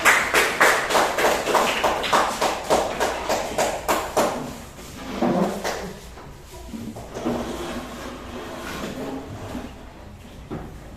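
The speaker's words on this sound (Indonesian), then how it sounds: "berikan tepuk tangan" A classroom group applauds together. Steady rhythmic claps sound in quick unison for about four seconds, then break into looser, scattered claps and room noise.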